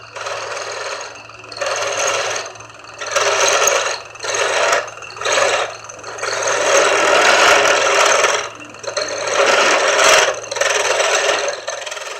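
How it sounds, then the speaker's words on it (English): Wood spindles spin on a lathe as a cutting tool scrapes them in repeated bursts of a few seconds each, loud and close with short pauses between passes and a low motor hum underneath. "then many spindles were turned on a lathe."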